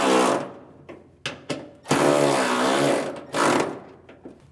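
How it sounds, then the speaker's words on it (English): Gears shifted through in a 1960 Auto Union 1000SP transmission, with loud whirring drivetrain bursts separated by brief clunks and pauses, close and alone. "This is the first time I've ever run through the gears in this transmission."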